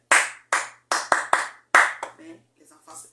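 Scattered claps from a small audience, about eight sharp separate hits in an uneven rhythm over a constant low hum, then fading into faint rustle and brief murmuring voices.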